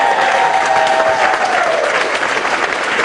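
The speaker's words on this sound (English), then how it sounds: "Give her a round of applause." A comedy show crowd gives loud, close applause for the comedian's mother seated in the audience, a thick, steady burst of clapping with light cheering lasting about three seconds.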